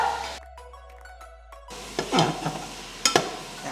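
Onions for mutton biryani sauté in a pan on the stove, a soft frying hiss broken by scraping stirs and clattering knocks partway through, close and fairly loud without speech.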